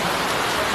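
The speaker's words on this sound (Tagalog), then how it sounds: "Ayun na, malakas na ulan." Heavy rain pouring down in a dense, steady hiss that stays loud and even throughout.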